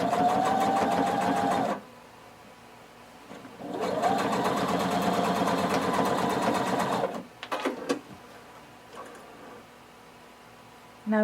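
Sewing machine stitching a seam through shorts or pants fabric with lining, running in two steady bursts of rapid, even whirring, with a pause between and short clicks and fabric handling afterward.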